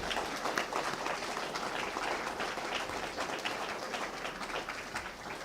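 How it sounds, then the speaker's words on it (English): Continuous, steady applause from a crowd honoring award recipients at a distinguished alumni awards ceremony, fairly distant with no voices. "How about another round of applause for all of our honorees tonight?"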